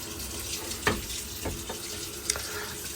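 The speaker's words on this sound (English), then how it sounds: "water's on." Water running from a tap in a home with a hot-water boiler; a soft, steady flowing hiss with a few small clinks and knocks, close and quiet, no talking.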